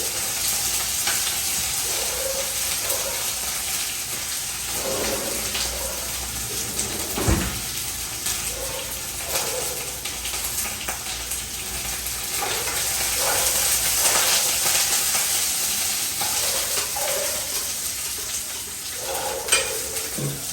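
Continuous frying sizzle of green chillies in a tempering pan, with occasional clinks and scrapes of stirring breaking through the hiss.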